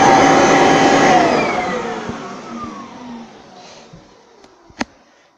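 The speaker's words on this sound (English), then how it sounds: "So as you can see, the hoover is very loud." A very loud Hoover vacuum cleaner roars at full power close by, its whine slowly winding down as it is switched off, ending with a sharp click.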